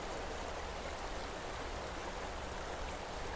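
River water flows in a steady, dense broadband rush that never lets up, loud and close throughout with no voices over it.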